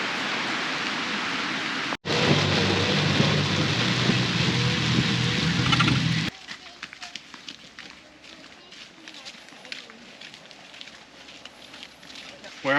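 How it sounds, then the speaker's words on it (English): Dense hiss of heavy tropical rain pouring down close by at Josephine Falls, Queensland, for several seconds, then cutting to a quieter scene of lighter patter and scattered drips. "This is awesome as the rains start."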